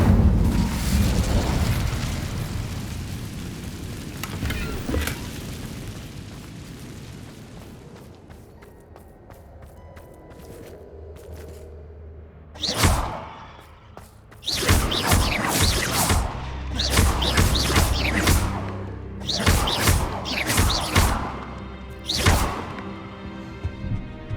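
An Incendio fire spell cast in Hogwarts Legacy, followed by loud booming, crackling bursts and thuds that come in several clustered blasts after a rumbling build-up, with no talking over them.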